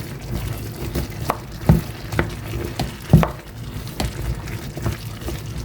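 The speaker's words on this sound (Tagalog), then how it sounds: "Saka natin halu-haluin." A pan of pinakbet with moringa pods is stirred, giving soft scraping strokes and occasional louder knocks against the frying pan over a low steady simmer, close and moderately loud, with no talking.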